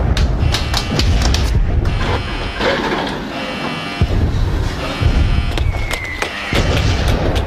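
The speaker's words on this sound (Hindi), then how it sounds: "तोपचियों को फायर करने बोलो।" Artillery guns firing in a battle, with repeated sharp blasts and thuds over a constant loud rumbling din, close and heavy, with no voices.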